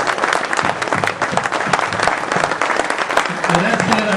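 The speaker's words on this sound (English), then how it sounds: "So a big round of applause for my captains here" Audience at a derby captains' gathering giving a round of applause, dense clapping heard up close with some talk and voices mixed in and a brief voice near the end.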